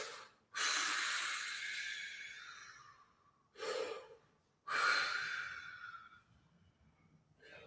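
Deep breathing during a vocal breath exercise: three long, close exhales or inhales separated by quiet pauses, each starting strongly and then slowly fading.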